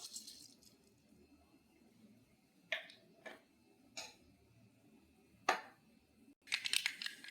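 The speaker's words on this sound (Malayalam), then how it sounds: "കടുക് പൊട്ടുന്നുണ്ട്" Mustard seeds popping in hot coconut oil in a pan for a Kerala rice side-dish curry, scattered sharp crackles and snaps a second or so apart, ending in a denser burst of popping, faint background otherwise.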